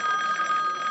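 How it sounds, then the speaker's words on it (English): A desk telephone rings in a police office with a steady electronic trill, loud and close, and no one talks over it. "we pay people to answer the phone"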